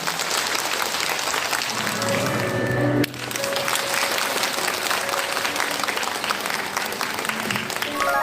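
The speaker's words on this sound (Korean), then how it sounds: "큰 박수로 맞이해 주십시오." A crowd bursts into sustained, loud applause, steady clapping filling the room for several seconds, welcoming a district mayor at a seniors' job training event in a community centre in Dong-gu, Incheon.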